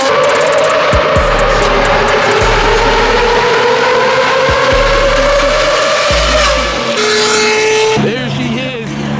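A Mercedes-Benz S600 fitted with an aftermarket exhaust roars loudly and continuously up close, its engine note rising as it revs and pulls away, with brief lower rumbles and a shift in tone near the end, while people talk over it.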